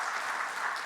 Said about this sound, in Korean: 이 새로워진 성가대에 박수 한번 주세요.